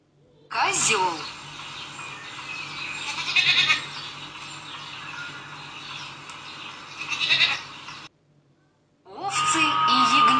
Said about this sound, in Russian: Козел.